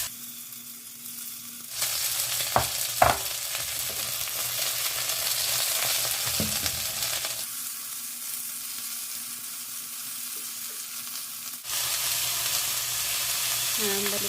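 Chicken pieces fry in hot oil in a pan, a loud close sizzle that swells and drops back as the pieces are moved, with a few knocks of a utensil and no talk.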